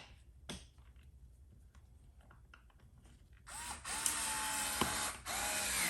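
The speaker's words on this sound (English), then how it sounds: "use your tool to screw it back in" Power tool driving a screw into the center console of a 2019–2026 GMC Sierra or Chevy Silverado, first soft clicks and handling, then a loud, close whirring burst of several seconds.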